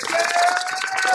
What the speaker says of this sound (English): Round of applause for Edgar.